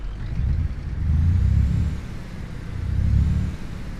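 A Scania 1 Series truck engine idles in Euro Truck Simulator 2, a steady low rumble that swells twice in loudness, with no talking.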